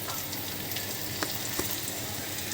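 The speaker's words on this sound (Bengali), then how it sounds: "এখন প্রায় আমার করলা ভাজি হয়ে এসেছে" Bitter gourd (karela) frying in a pan gives off a steady, close sizzle and crackle. A few sharper pops and stirring clicks come through, with no talking.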